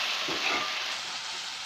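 Cooked cluster bean curry being stirred in a pan, a soft steady frying hiss with a few faint scraping strokes near the start, no voices.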